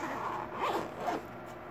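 A zipper on a child's school backpack is pulled open in two quick close raspy strokes, heard alone.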